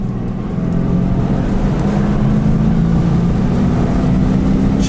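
A Jaguar's engine, a V8 swap or a stock V12, rumbles loud and close, its steady low growl rising in pitch as the revs climb, with no one talking.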